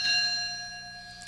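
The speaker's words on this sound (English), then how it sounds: "they're ringing the bell" A ship's bell rings once at a naval departure ceremony, a bright metallic strike whose tone fades slowly in a quiet setting.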